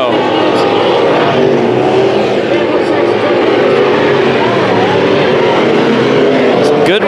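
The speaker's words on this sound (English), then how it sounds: "Some good racing here with the X-Mods." X-Mod race cars in a heat race roar continuously and loudly, their engines blending into a dense, sustained drone with slight rises and falls, while a voice talks over the noise.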